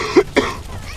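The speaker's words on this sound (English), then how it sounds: "I got a cough" Two quick, close coughs from a man who is getting over a cold, sharp and loud with a short gap between them, then a quiet room.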